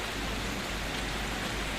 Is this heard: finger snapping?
no